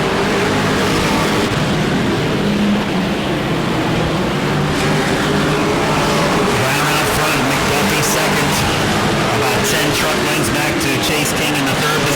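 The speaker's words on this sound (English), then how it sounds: "Lap traffic, Maresca ahead in the 114 machine" Pro trucks race around the Auburndale racetrack in December 2022, a dense, steady roar of several engines close by that holds for the whole stretch, with a commentator talking over it.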